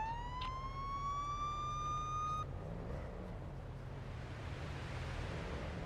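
Police car siren in the game Police Simulator: Patrol Officers, a rising electronic wail for about two seconds that then cuts off, leaving a steady low engine rumble.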